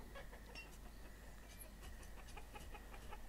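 Chickens in the video game Banished cluck faintly in quick repeated bursts over a low steady background hum.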